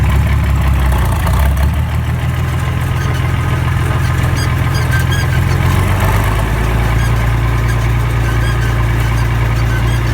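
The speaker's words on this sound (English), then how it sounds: "Let's go back into 5th, TA, take off again, make some more smoke, do it at less throttle." An IH Farmall 560 tractor engine runs loud and steady throughout, with a deep, throaty idle-to-working drone and a slight pitch shift partway through. No voices are heard.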